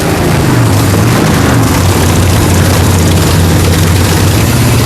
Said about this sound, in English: Using the power of Larry's bike, Billy's engine roars to life.